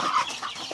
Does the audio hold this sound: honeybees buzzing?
no